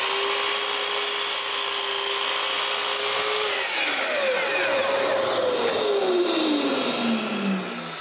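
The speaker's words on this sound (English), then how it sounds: "To make sure I have a nice flat surface, I cut the ends of the posts." A saw trims the ends of old wooden bed posts while a bedroom set is repaired, a steady loud mechanical whine cutting alone, its pitch dropping partway through as the blade works into the wood, then winding down at the end.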